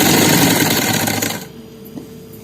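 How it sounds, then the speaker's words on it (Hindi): A sewing machine stitches along the edge of a fabric neckline in a fast, loud, even whir for about a second and a half, then stops, leaving a quiet room with one faint knock. "तो अब इस तरह से किनारे पे सिलाई लग रही है।"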